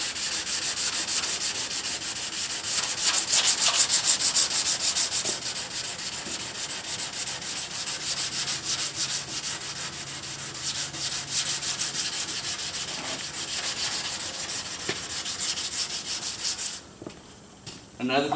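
Primer on a green Chevelle car body being sanded smooth by hand, a steady, close rasping rub that runs continuously with slight surges before cutting off near the end.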